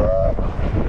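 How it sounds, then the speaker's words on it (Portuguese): Strong wind gusting across the microphone outdoors along the Carretera Austral, a continuous low roaring buffet with a brief tonal whistle near the start, loud and close throughout. "E a ventania tá forte"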